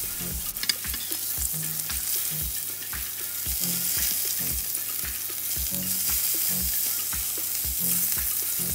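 Sea bream skin fries steadily in a pan, giving a continuous close hissing sizzle with fine crackles, alongside a soft regular low thumping beneath and no talk.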